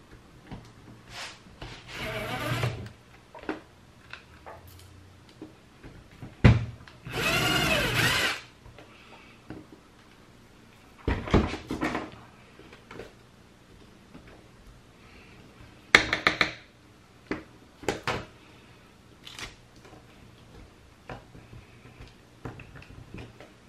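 Small power drill boring out a broken screw in a circuit breaker, heard in short whining bursts of varying length separated by quiet pauses, with occasional clicks and handling knocks close by.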